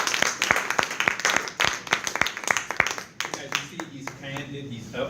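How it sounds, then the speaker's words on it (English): Audience round of applause at a talk, individual claps distinct and sharp in a smallish group, thinning out toward the end as a voice begins speaking. "Let's first give him a big round of applause."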